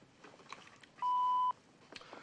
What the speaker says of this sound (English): If you care to leave a message, however, wait for the little beep.